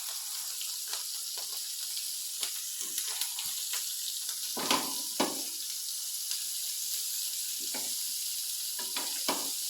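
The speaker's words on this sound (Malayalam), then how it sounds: "അപ്പോൾ എണ്ണ ഉള്ളിടത്തോട്ട് വെച്ച് വറുത്തെടുക്കും." Chillies frying in oil at the side of a pan, sizzling steadily with sharp crackles and spits breaking through now and then, close and alone.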